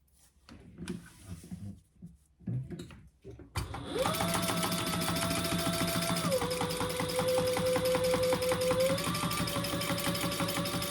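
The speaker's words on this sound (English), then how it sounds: "we're going to top stitch that down" A sewing machine top stitching a vinyl pouch runs in a steady, fast mechanical whir with rhythmic needle clatter, close and continuous after a few seconds of talking.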